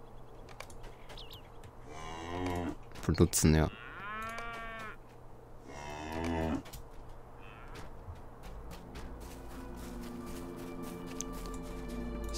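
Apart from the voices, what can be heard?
cows mooing in the video game Lord of the Rings Online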